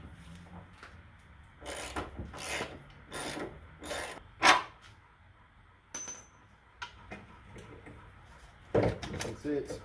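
Wrenches and tools scrape, clank and rasp against metal in scattered bursts while an old rear shock absorber is removed from a BA XR8 Ford Falcon, with a couple of sharper knocks and clinks in between.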